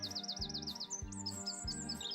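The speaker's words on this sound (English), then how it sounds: "All the birds are singing." Bright, rapid bird chirps and tweets trill over steady background music, lively and continuous throughout.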